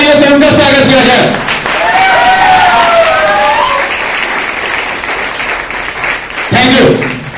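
An audience at a motivational speech breaks into loud applause welcoming teachers, a dense wash of clapping with tonal cheers or whistles sliding over it before it fades and briefly swells again.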